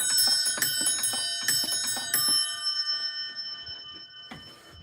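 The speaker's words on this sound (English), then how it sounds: "I have to walk all the way back to my room to ring the bells." Victory bell rung indoors with a rapid series of bright metallic dings for about two seconds, then a lingering ring that fades, with one last soft strike near the end.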